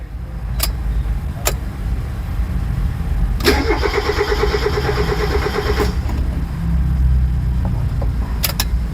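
A Mazda Miata's starter cranks for a few seconds after a battery replacement, with a whirring, grinding chatter, but the engine doesn't catch; brief clicks before and after.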